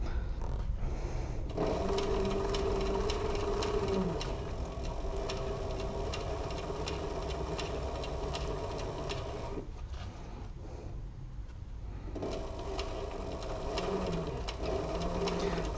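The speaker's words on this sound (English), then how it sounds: "So I'm going to keep sewing" A sewing machine stitches a bag seam with a steady mechanical whir and fast needle ticking. It pauses briefly near the start and again in the middle, then resumes at a moderate, even level.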